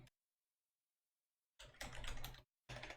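Brisk keystrokes on a computer keyboard entering a server command, two close bursts of rapid clicking separated by silence.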